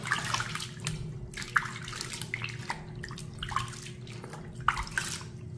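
Water splashing and running while herbal bath powder is being washed off skin, irregular close splashes and trickles over a steady tap-like flow, with a few sharper drips and no talk.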